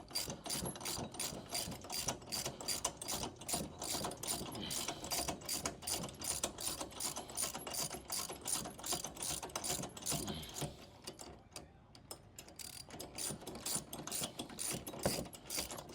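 Steady rapid ratcheting clicks from a tool tightening a very long high-tensile bolt on a Subaru Solterra spare wheel assembly, continuous and close, pausing briefly near the end before resuming.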